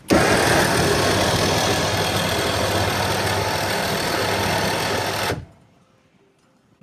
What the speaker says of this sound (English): all-terrain vehicle, sorry, ATV winch. It is a damn noisy thing